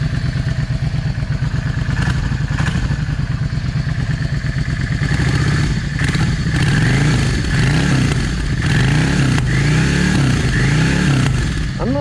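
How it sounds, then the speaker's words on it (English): Yamaha V Star 650 motorcycle engine running in a lean condition, a loud, close and continuous mechanical chug with irregular sharp backfire pops and clattering thumps throughout. "I'm not too crazy about that backfiring."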